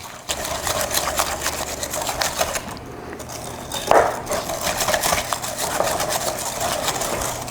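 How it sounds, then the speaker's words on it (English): A whisk stirs a clumpy brown sugar replacement into a wet brownie mixture, producing a fast, steady rattling and clicking against the bowl, close and continuous, with one brief louder knock partway through and no voices. "Break those up a bit before I start to whisk those in."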